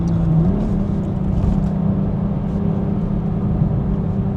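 Engine of a Toyota GR Supra Final Edition accelerating, a steady loud low drone with a rising tone early on, heard from inside the car on winding roads with no talk.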